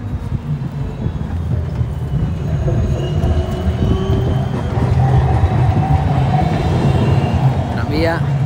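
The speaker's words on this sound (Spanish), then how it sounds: "Vamos a tener que tomarnos el tranvía en algún momento." A tram rolls past on an Amsterdam street, a steady loud rumble of wheels on rail with traffic noise, holding close throughout and swelling slightly midway, with a brief high squeal near the end.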